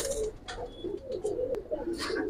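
Giribaz flying pigeons coo in a steady run of low, throaty calls up close, with faint handling clatter and a few soft clicks in the background.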